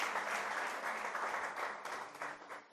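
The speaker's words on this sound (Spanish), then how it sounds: "Dale un fuerte aplauso a Dios." A church congregation breaks into applause, a dense burst of many hands clapping that fills the room and fades slightly toward the end, with no talk over it.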